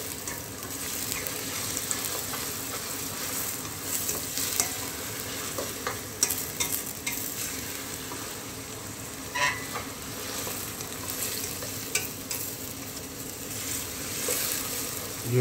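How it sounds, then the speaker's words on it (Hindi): Garlic frying and being stirred in a pan for a quail karahi, giving a steady close sizzle with occasional scraping stirs and no talk. "लहसुन 1 चम्मच डालकर अच्छी तरह भूनेंगे इसको।"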